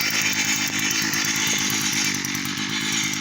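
A Champion Power Equipment gas cultivator engine runs steadily at close range, a loud buzzy two-stroke drone with a rapid even pulse throughout and no speech over it.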